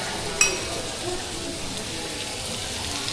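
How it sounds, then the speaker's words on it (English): Continuous sizzling of food stir frying in a hot wok, with a brief clatter near the start and no one speaking. "Ooh, stir frying it. Whipping like a stir fry."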